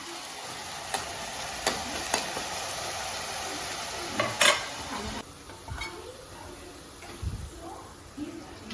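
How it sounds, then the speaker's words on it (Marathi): Mutton simmering in dal in a home kitchen, with a steady sizzling hiss, scraping stirs and occasional clinks of a spoon against the pot, close and moderately loud, with voices talking briefly. "असं हे डाळीमध्ये मटण आपण शिजवून घेऊया"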